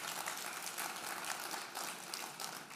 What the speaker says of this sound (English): I hear a hand clap over here